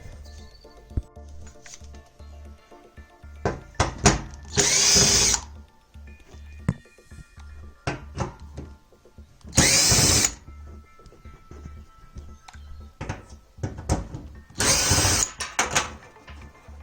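A power drill unscrews a part inside a Whirlpool AZB 8 tumble dryer during a belt replacement, with three short bursts of whirring spaced several seconds apart and quiet clicks and handling noises in between.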